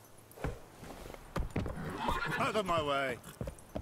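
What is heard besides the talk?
hooves of Geralt's horse Roach in The Witcher 3 video game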